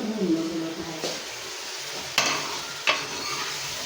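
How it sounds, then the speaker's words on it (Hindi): Kaleji (liver) frying in a pan with chillies, broad sizzle throughout, two sharp scrape-and-clatter stir strokes partway through, with a faint voice early on. "कलेजी को इतनी अच्छी तरीके से भूनना है"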